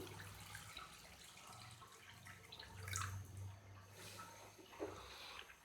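Water pours into a cooking pot in a quiet kitchen, a soft continuous splashing stream with a few louder gurgles, no talking.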